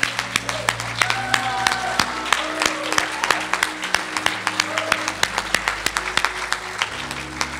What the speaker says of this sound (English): give you a hand applause and praise